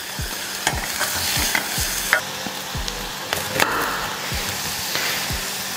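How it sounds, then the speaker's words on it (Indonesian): Minced meat and garlic sauté in hot oil for a Korean sundubu jjigae, with a steady sizzle and repeated scraping stirs of a utensil against the pan, close and clear, with no talking. "Tambahin daging cincang, kita masuk, kita tumis sampai matang dan kecoklatan."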